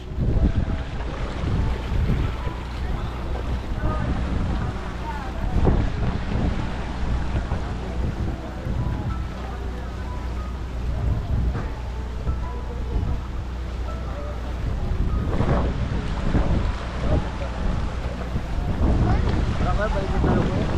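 Rushing floodwater current and wind noise fill the clip steadily during Typhoon Christine in Naga, with waves churning around a boat and occasional voices in the background.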